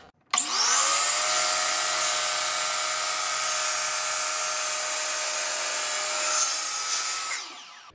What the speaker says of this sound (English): I'm going to use my compound sliding miter saw to cut this